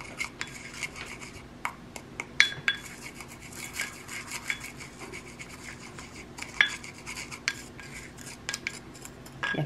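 Utensil scraping and clinking against a bowl while oil is tossed through cut potatoes and sweet potatoes, a steady run of soft rubbing strokes with sharper metallic taps, close and fairly quiet, no voices.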